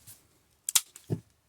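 A small metal door lock spring on an A40 snaps into place with a few sharp, close clicks in quick succession, then a softer knock, in an otherwise quiet setting.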